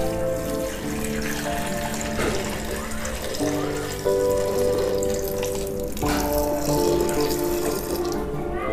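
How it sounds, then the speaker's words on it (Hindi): Water runs steadily into a metal pressure cooker holding corn cobs for several seconds, a continuous gushing pour with a faint hum underneath. "इसमें हम पानी डाल देंगे"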